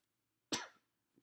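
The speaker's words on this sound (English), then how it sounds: "I still coughing a little bit." A single sharp human cough, close and fairly loud, bursting out and trailing off within a fraction of a second, followed by a faint short breath in an otherwise quiet room.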